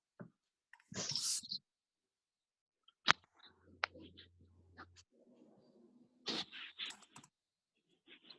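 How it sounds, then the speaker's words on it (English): Computer keyboard typing during a remote chemistry lab session, heard as faint scattered key clicks with sporadic bursts of noise and background voices. "He's probably typing."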